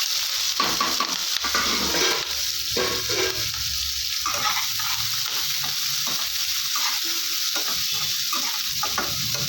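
Loud continuous sizzling of onions with green chillies and curry leaves frying in a hot pan, with intermittent scraping and stirring sounds throughout.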